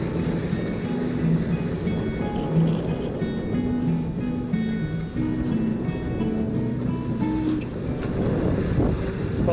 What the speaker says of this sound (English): we'll use this bit of wind we've got and hopefully do some motor sailing as we head a bit further